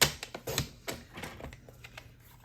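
Quick, close snips trim the bottom of a spider-themed welcome wreath, a fast run of sharp clicking cuts that fades over a couple of seconds.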